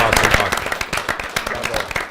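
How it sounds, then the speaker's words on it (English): An audience at a school committee meeting gives student musicians a round of applause, with distinct claps from a modest crowd sounding close and uneven, some sharp individual hits standing out, fading slightly toward the end. "I want to give you guys another round of applause"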